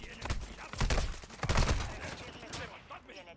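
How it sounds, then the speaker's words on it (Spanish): Gunfire in the video game Warzone 2.0, a rapid cluster of sharp cracks and bursts with echoing tails, loud and close, with occasional voices underneath. "2 tiros de sniper y no se muere."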